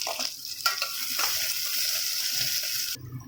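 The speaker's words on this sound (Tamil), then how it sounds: "ஒரு பெரிய வெங்காயத்தை கட் பண்ணி வச்சுருக்கேன் அதையும் சேர்த்து வதக்கிக்கிறோம்" Chopped onion sautéing in a pan with curry leaves for a one-pot mutton soup: a steady, hissing sizzle with a few scraping stirs early on, cutting off abruptly near the end.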